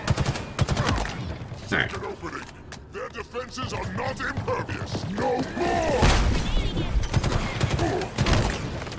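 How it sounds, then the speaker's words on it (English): A Shade turret fires in Halo Infinite, with rapid plasma bursts and clattering shots mixed into busy combat sounds. A player speaks briefly over the noise. "I hear a shade turret."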